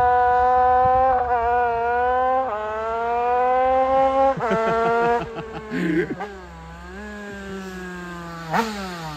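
A Honda HM 2Fast 100cc motorcycle engine revs hard on a dyno test bench, its rising and falling pitch climbing through repeated throttle pulls and gear steps, loud and close, with brief drops between bursts.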